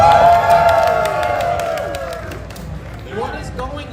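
Large audience at a Sonic live panel at a packed event, cheering and clapping loudly, a roar that slowly fades with scattered claps and shouts trailing off.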